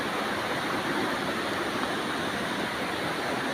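A constant, full rush of falling water at Bangon Falls in Northern Samar, dense and even throughout with no voices over it.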